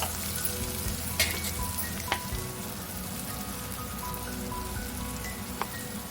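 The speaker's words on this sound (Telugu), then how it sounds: "మన కాకరకాయ ఫ్రై అయిపోతుందండి" Bitter gourd fries in plenty of oil under a lid, making a soft, even, rain-like sizzle with a few faint isolated pops, quiet and steady, with no talking.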